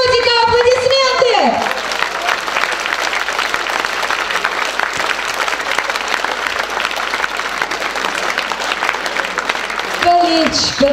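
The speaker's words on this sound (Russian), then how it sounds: "Аплодисменты всем вам!" Sustained audience applause fills a Russian concert hall during a singer's stage show, dense and steady for about ten seconds, with a brief sung or spoken voice at the start and again just before the end.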